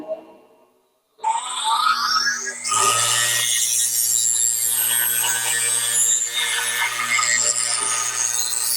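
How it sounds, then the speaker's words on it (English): A 50-degree bowl gouge sharpened on a bench grinder, the wheel's steady hum joined by a bright, continuous grinding rasp as the steel meets the wheel, close and fairly loud. "I'm just going to finalize or tweak the grind on my 50-degree bowl gouge"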